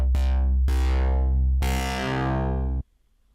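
Serum synthesizer patch with an industrial character and an LFO on a downward ramp: a loud buzzing synth tone retriggered three times, each hit opening bright and dulling quickly, then cutting off.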